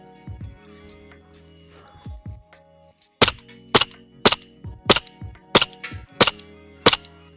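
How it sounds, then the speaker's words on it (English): An old airsoft gun fires about eight sharp, loud snapping shots in an even rhythm, roughly two per second, after a few quieter handling clicks and thumps. "Let's see how she shoots."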